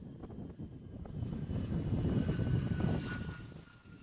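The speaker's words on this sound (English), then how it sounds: "F-22s arrive at Kadena Air Base to replace retiring F-15s." F-22 fighter jet at Kadena Air Base in Japan, a distant engine roar that swells to a peak and then fades, fairly faint and heard alone.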